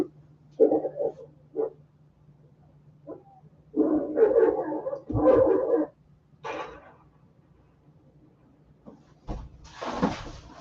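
A seven-month-old German Shepherd and Great Pyrenees mix gives a few short, muffled barks and bursts amid quiet indoor sounds, with a knock or thump and a rustling noise near the end.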